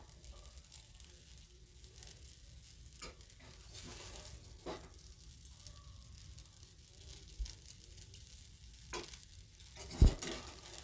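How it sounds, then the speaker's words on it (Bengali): Vegetable chowmein with masala is being tossed and stirred in a pan, faint soft sizzling with scattered scraping and rustling strokes and one sharp knock near the end. "মশলাটা দিয়ে পুরো জিনিসটাকে একটু ভালো করে নেড়ে নেব"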